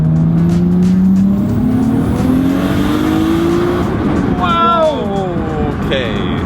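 A Nissan Skyline R32 GTR pulls hard, its engine note climbing steadily through the revs up close, then breaking into rapid shifting tones and a final high whine as it accelerates.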